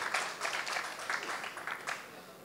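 Applause from the audience at an all-India mushaira in Jaipur, a steady, moderately loud wash of clapping with faint voices mixed in.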